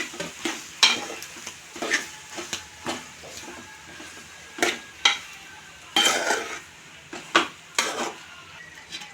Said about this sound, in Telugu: అల్లం పేస్ట్ పసుపు కలుపుకుంటున్నాను